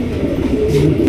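Pigeons, breeding birds kept in a loft, coo softly in a low continuous murmur, close and fairly loud for about a second.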